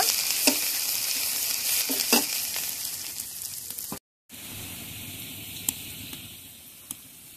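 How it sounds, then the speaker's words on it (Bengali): Chopped onion, ginger and garlic fry in hot oil with a loud, steady, close sizzle that cuts out for a moment midway, then resumes with a few sharp crackles and pops. "তেলের মধ্যে এখন পেঁয়াজ কুচি, আদা কুচি, রসুন কুচি দিয়ে দেব। পেঁয়াজ রসুন আদা হালকা ভেজে নেব।"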